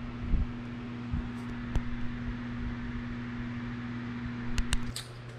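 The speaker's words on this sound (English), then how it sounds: "sorry if you can hear the wind noise behind me" An electric fan hums steadily in a hot garage during work on a Mustang GT, a constant low drone with broad airy noise and a few faint clicks and knocks, with no talking.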